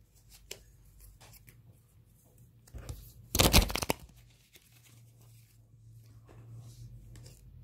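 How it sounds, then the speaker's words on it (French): Tarot cards shuffled by hand in one short, dense riffling burst near the middle, with quieter card handling and soft rustles before and after, close and fairly quiet. "Nous allons mélanger les cartes."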